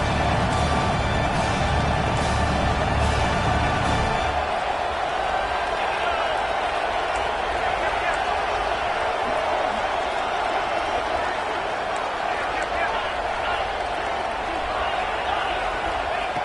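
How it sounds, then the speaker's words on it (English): A football stadium crowd roars steadily as the home defense is pinned in the red zone, a dense, continuous wall of cheering and noise that stays loud and sustained throughout. "the crowd coming to life here trying to help this defense down in the red zone"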